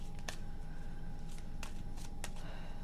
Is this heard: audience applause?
no